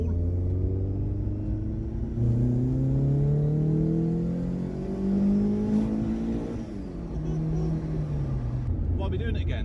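A VW Golf Mk2 GTI with a 1.9 16-valve engine and Bosch K-Jetronic injection drives along, its engine rising in pitch through gears with shifts between pulls, a loud, close rumble throughout.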